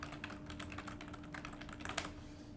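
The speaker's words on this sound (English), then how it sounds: "and we'll just begin typing." Steady typing on a computer keyboard, quick uneven key clicks over a low steady hum, close and fairly quiet.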